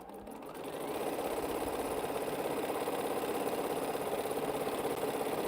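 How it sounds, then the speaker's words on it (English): A sewing machine stay-stitches about 1/8 inch from the edge of a quilt made from African Ankara scraps, with a steady, fast mechanical whir and rapid needle ticking that starts up and then runs continuously at even speed. "So I just stitch about 1/8 of an inch from the edge."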